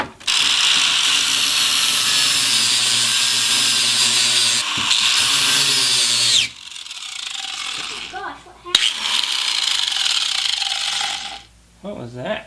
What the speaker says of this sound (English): I think it'll be easier just to shave that aluminum down real quick